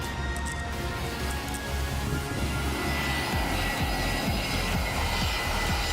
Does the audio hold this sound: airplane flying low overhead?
yes